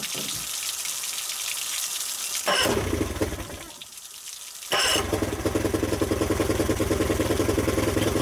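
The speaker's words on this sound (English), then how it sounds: "All right, let's crank her back up." A Johnson 40 HP outboard motor cranks over and then fires, first a loud burst, a short lull, then a steady running roar near and loud with rough, rapid pulsing.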